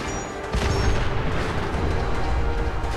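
A sudden loud explosion in Fallout 4 erupts half a second in, followed by a sustained, rumbling roar of debris and noise that continues to the end.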